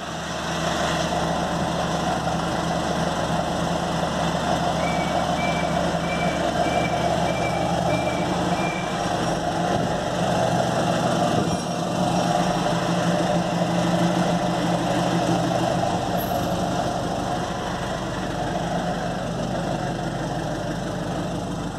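A Ford F250 pickup's engine runs steadily with a low, constant drone close by, while a faint repeated beeping sounds for a few seconds partway through.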